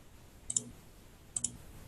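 Two crisp computer mouse clicks, each a quick double tick, about a second apart, close and quiet in a still room while working in OrCAD 16.6 SPICE software.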